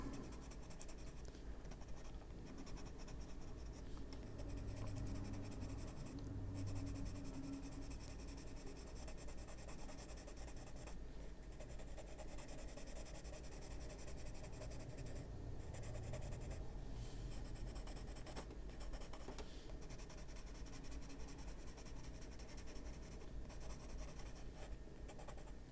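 Colored pencil rubbing and scratching steadily across paper during adult coloring, a close, quiet, continuous scratchy texture with no talking.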